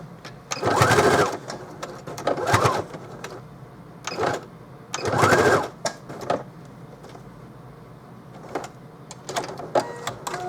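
Sewing machine stitching reinforcing ribbons onto a backpack made from placemats: short bursts of rapid mechanical whirring, several runs of one to two seconds separated by pauses and small handling clicks.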